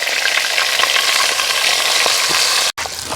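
Duck eggs frying in hot oil give a loud, steady, close sizzle with crackling spatter throughout, cut by one brief dropout near the end before the frying noise resumes.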